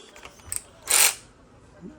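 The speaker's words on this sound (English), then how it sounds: "I break the bolt loose. I use this with this extension, with this socket." A socket wrench on an extension breaks loose a very tight bolt while removing the ABC tandem pump from a 2002–2006 Mercedes, giving one short ratcheting burst up close amid light clicks and handling noise.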